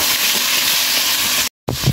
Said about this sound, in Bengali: চিংড়ি মাছ দেওয়ার পরে কিছুক্ষণ ভেজে নেব।